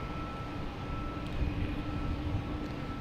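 A JetBlue Airbus A220 comes in to land at Boston Logan, heard as a faint, distant, steady engine rumble with no voices.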